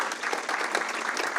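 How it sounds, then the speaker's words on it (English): Audience applause at a pharmacy ribbon-cutting ceremony, a brief burst of brisk, dense clapping from a crowd at steady moderate loudness throughout. "Give yourselves a round of applause, please."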